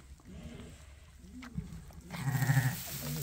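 Lambs bleat on a sheep farm during tube feeding, with short calls rising near the end over soft background noise and handling sounds.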